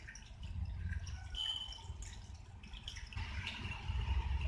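Water is poured over sliced bitter gourd in a bowl as it is set to soak, a quiet splashing trickle with small drips and gurgles, close by with no talking.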